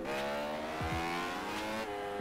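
A dirt bike engine in the MX Bikes video game, ridden on a Rodograu track, holds a steady, buzzing high-revving drone with brief pitch dips as it shifts, running loud and continuous throughout.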